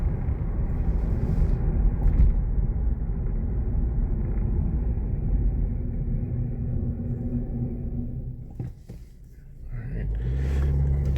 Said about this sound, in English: so I'm gonna go ahead and apply the brakes